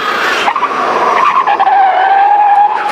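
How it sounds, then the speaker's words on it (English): Electric motor of a Sur-Ron electric dirt bike whining loudly as it throttles on its own while riding uphill, a rising high-pitched tone with rushing wind noise, close and continuous. "It keeps throttling on its own."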